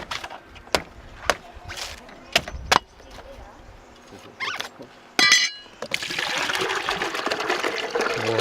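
A fresh young coconut is cut open at a roadside shack on Koh Chang Island, Thailand, and its water poured out. Several sharp, loud chopping strikes are spaced out in an irregular rhythm, then a sustained close splashing pour follows.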